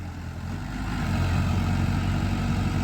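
A tractor engine running during a harvest, a steady low rumbling drone with a constant throb, loud and close, rising slightly in level, without talk.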